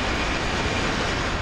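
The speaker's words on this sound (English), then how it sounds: "This is the first stack train I've gotten on this bridge in a long time." A long double-stack freight train rolls over a bridge at night, giving a loud, steady rumble that continues unbroken with no voices.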